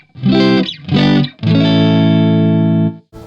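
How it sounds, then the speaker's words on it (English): An electric guitar plays clean through an Orange AD30 amp. Three sustained notes or chords ring out, and the last one is held for about a second and a half before it is cut off. "we're running into the orange AD30 first"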